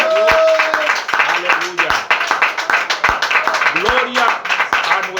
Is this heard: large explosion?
no